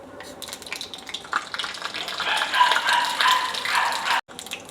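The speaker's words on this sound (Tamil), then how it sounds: "இப்போ கடுகு பொரிஞ்சிருச்சு." Mustard seeds, split chickpeas, black gram and cumin crackle and pop in hot oil for coconut chutney, a dense bright spatter that swells toward the end and drops out briefly near the close.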